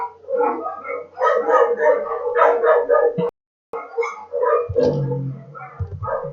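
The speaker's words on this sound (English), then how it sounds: "So many dogs." Several dogs bark and howl loudly and close by in a continuous, overlapping chorus with one brief break, the barking steady and insistent throughout.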